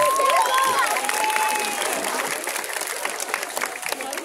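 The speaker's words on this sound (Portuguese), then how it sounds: "Uma salva de palmas pra ele." A crowd at an adult cosplay contest during a Bon Odori festival in São Bernardo do Campo applauds a cosplayer, with dense clapping and a few cheers that start loud and slowly thin out.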